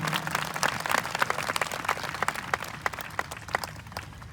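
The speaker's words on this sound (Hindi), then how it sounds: "ताली बजाएं प्रभु के लिए जोर से।" A church congregation at a healing gathering in Karanjvel claps loudly for the Lord, a lively crowd of hands with distinct sharp claps standing out amid the steady applause, fading slightly toward the end.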